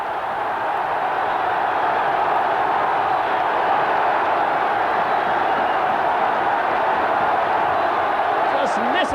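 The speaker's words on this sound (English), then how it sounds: "Listen to that crowd." A packed football stadium crowd at a 1989–90 Middlesbrough match roars in one steady, loud, unbroken wall of cheering from start to finish.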